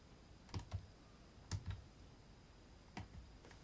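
Three soft key presses on a Novag Chess Champion pocket chess computer, spaced about a second apart, each a quiet double click against a faint background hiss.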